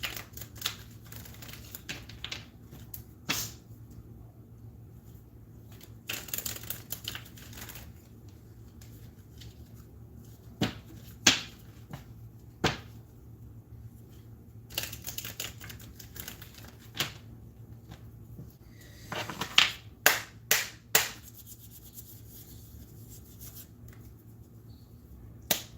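Angel demon cards, light and dark energy cards, shuffled and tapped nearby in repeated sharp riffles and snaps, spaced irregularly and clustered toward the end, over a low hum.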